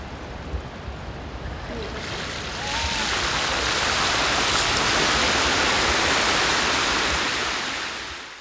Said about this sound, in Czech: U Západočeského muzea v Kopeckého sadech v centru Plzně už znovu tryská voda ve fontáně.